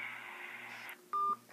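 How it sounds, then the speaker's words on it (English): Telephone keypad dialing tones before a prank call: a sustained dial tone cuts off, then a short, loud touch-tone beep follows, heard clearly and alone. "I'm calling Denny's now."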